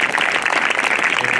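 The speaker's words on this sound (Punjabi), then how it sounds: "ਬੜੀ ਜ਼ੋਰਦਾਰ ਯਿਸੂ ਦੀ ਤਾੜੀ ਦੋ" A church congregation at a healing testimony gathering claps in sustained, dense applause, loud and even throughout.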